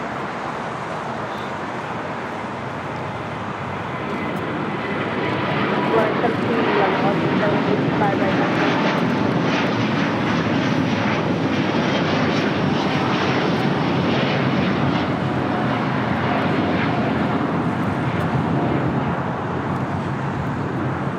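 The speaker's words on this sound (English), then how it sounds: "This is Delta Airlines Flight 7 taking off to Tokyo Haneda on the A330 Neo." A Delta Airlines Airbus A330neo jet takes off at an airport, its engine roar swelling and then holding as a loud, broad, sustained rumble with light traffic noise underneath.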